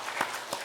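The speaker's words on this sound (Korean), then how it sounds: "하나님께 영광의 박수 돌려드립니다." A church congregation claps together in a brief burst of applause during a Sunday morning service, with a couple of sharper swells in the steady patter.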